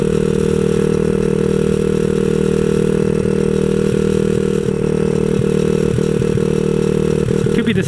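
A 127cc X7 pocket bike engine runs roughly and loudly up close, a steady unbroken drone with a rattly edge and faint clatter near the end.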